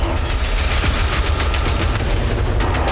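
Heavy weapon fire in the MechWarrior 5 game as a mech destroys an artillery piece: a dense, loud, continuous barrage of booming gunfire with rapid repeated shots throughout, no talking.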